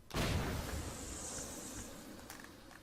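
A single loud gunshot fires a bullet in Lobotomy Corporation, followed by a long hissing, ringing decay that fades over about two seconds, with a couple of faint clicks near the end.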